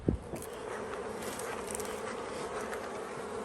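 Honey bees hum steadily around beehives, a close, continuous buzz with a brief louder pass at the start and no speech over it.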